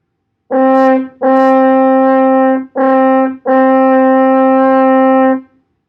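A brass horn plays a sustained single pitch in four tongued notes, the second held long as a tied note, clear and close with short breaks between.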